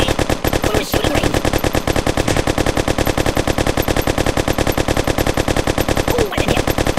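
Rapid automatic gunfire from crazy firearms aimed at the Buddy in the mobile game Kick The Buddy, a loud, dense, machine-gun-like rattle of shots running steadily throughout with brief pauses.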